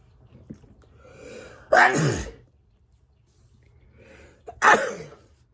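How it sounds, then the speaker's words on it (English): Two sharp sneezes, each preceded by a quick intake of breath, spaced a few seconds apart, close and loud against a quiet room. "I gotta sneeze again."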